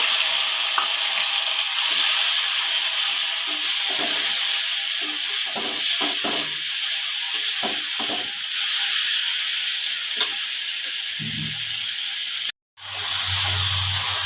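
Potatoes fry in a pan with a steady loud sizzle and hiss, while a spoon scrapes and stirs them in short irregular bursts near the end.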